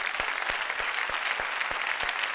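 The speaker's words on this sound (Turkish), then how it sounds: "alkışlarımızı Fatih Karaca için gönderiyoruz" Studio audience on a Turkish talk show breaks into brisk, even applause, a dense patter of clapping hands with a few louder claps standing out, close and steady for a couple of seconds.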